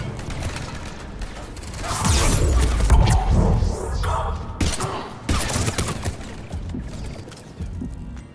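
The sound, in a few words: gunfire in the video game Mass Effect 3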